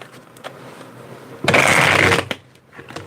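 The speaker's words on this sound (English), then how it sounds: "Let's do 2 more shuffles here." A burst of tarot card shuffling, a quick riffling rush of papery clicks lasting under a second, with quiet room sound before and after.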